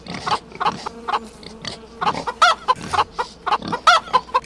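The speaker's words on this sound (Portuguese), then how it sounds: "Galináceos." Chickens cluck in repeated short bursts in the video game 7 Days to Die, with fairly close, irregular clucks and a few higher squawks.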